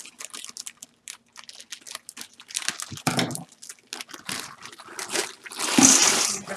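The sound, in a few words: opening a 3-pound bag of frozen baby lima beans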